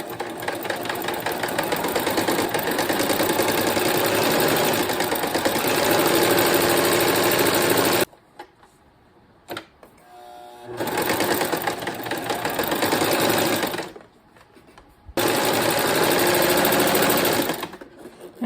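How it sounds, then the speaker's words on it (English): A domestic sewing machine runs in long, fast bursts while securing strips of quilt batting, loud and close, with three sustained stitching runs broken by short pauses. "now I'm going to my machine and I'm going to go ahead and secure the batting"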